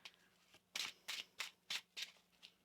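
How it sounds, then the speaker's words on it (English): Tarot cards riffled in six quick, crisp bursts at a steady rhythm, close up, with a faint hum beneath and no talking. "One more shuffle."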